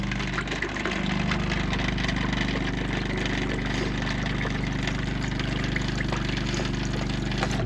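An RV toilet flushes pink antifreeze down during winterizing, a steady rushing water flow with a low pump or engine hum underneath, close and continuous throughout.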